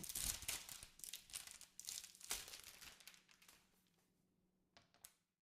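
Protective plastic wrap is peeled off a new Apple MacBook Air 13-inch: close, loud crinkling and crackling in bursts that thin out to quiet, with a final sharp rustle near the end.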